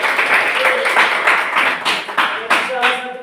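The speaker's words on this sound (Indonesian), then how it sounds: "Tepuk tangan untuk semua." An audience at a presentation claps and applauds, a dense steady patter of hands that rises and falls in waves, fairly loud, with voices mixed in.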